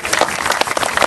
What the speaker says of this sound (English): I got to clap for that one.